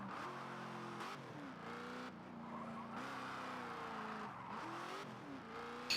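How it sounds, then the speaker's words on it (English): An Aston Martin Vantage racing in Forza Motorsport 7, its engine revving up and down through repeated gear changes with tire squeal, steady and close with no talk. "So this is an Aston Martin Vantage, absolutely brilliant, iconic British car"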